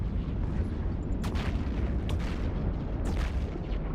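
Explosions go off in space combat in the video game EVE Online, three sharp bursts over a deep, continuous rumbling background.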